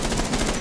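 Rapid automatic gunfire in a Rainbow Six Siege match, a close, loud stream of shots with no pause across the short burst.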